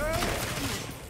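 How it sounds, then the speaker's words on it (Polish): Gunfire in the Batman-universe action game Gotham Knights: a short, dense burst of rapid shots heard at moderate volume with no voices over it. "Uwaga, bo strzelają."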